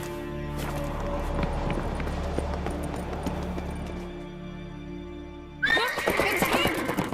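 A horse whinnies sharply near the end after a stretch of rumbling hoofbeats and low game sound in The Witcher 3, loud and close.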